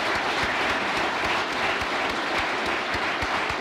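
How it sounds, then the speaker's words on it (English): Audience applause for student award winners at a national technology awards ceremony, a dense, even wash of many hands clapping steadily throughout with no talking. "We might just acknowledge those awardees with an applause."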